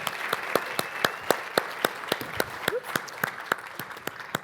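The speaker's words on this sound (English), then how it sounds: "let's give one more round of applause to all of our legal presenters today" Sustained applause from a conference audience at a speakers association winter symposium, with dense clapping and a few sharper individual claps standing out near the microphone, continuing steadily throughout.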